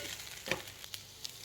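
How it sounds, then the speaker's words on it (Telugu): Spice powders are stirred into pieces frying in a pan, giving a faint, steady sizzle broken by a few light scrapes and taps of the spoon. "ఇలా ముక్కలకు పట్టేటట్టు మంచిగా కలుపుకోవాలండి. అడుగు అంటకుండా కలుపుకోవాలి."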